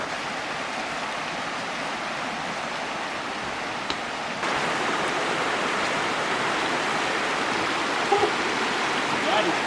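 A cold wilderness river on Vancouver Island rushes steadily as a broad, continuous wash of flowing water, loud and close, growing slightly stronger partway through, with a few small knocks and splashes near the end.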